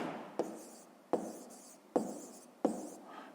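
A pen scratches out a maths solution on paper in four short strokes with brief pauses between them, each a quick, close, quiet scrape.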